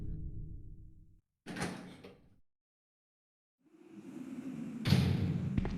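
Door opening in the PS1 video game Resident Evil 2, heard as a short loud creak-and-thud around a pause, followed by a longer rumbling passage ending in a heavy thump.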